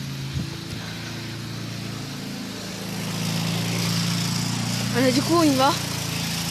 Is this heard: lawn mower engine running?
yes